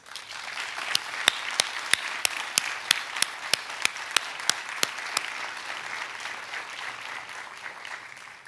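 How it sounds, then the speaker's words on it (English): Audience at a 2021 commencement ceremony applauding the graduates, a sustained, fairly soft wash of many hands with a few sharp, regular louder claps standing out in the first part. "please join me in a round of applause for our graduates"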